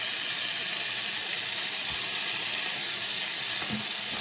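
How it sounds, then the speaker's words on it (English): Garlic, about two rounded teaspoons, sizzling in a frying pan for shrimp fried cauliflower rice, a steady close hissing fry with a few faint stirring knocks. "So first we're going to put in the garlic"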